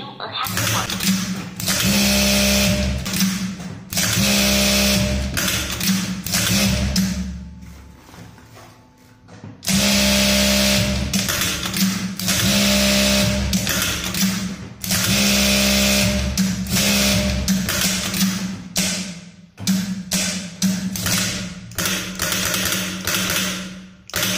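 Jack A4 industrial sewing machine, just repaired after an error-08 power board fault, running in loud, sustained bursts of rapid stitching with short pauses between runs, close by, with a person talking at times.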